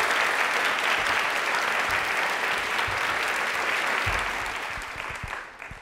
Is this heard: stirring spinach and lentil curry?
no